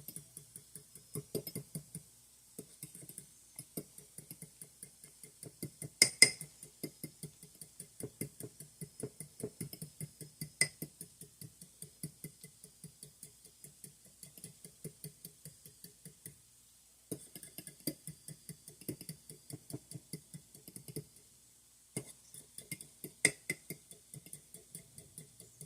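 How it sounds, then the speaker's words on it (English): Eggs being scrambled in a bowl, a quick steady run of light clicking whisk or fork strokes against the side, close and fairly quiet, with short pauses between bursts. "And now I just need to scramble up the eggs really good."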